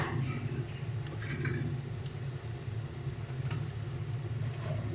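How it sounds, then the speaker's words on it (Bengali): Onions fry lightly in a pan, a soft steady sizzle with faint crackles and occasional stirring scrapes, continuous and fairly quiet throughout. "পেঁয়াজটাকে হালকা করে একটু ভেজে নিচ্ছি"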